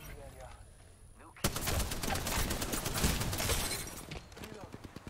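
Rapid automatic gunfire in the shooter game Apex Legends with an R99 submachine gun, a dense loud burst of close shots lasting a few seconds, then trailing off into separate pops.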